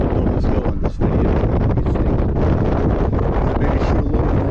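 Strong wind roars across the microphone high atop Trencin Castle in Slovakia, a steady loud buffeting rush with brief dips in gusts.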